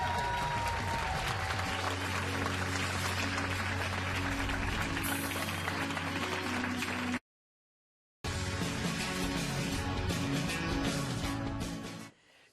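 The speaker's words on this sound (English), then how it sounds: "All right, yes, applaud." A studio audience at a late-night political comedy talk show breaks into loud, steady applause, which cuts out briefly and resumes before tapering off.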